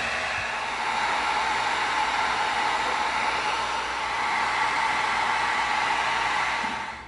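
Heat gun blowing hot air onto EVA foam for a prop cleaver, a continuous steady rushing whoosh held close and loud for several seconds, fading slightly at the end.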